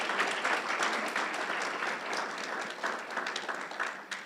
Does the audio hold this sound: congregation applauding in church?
yes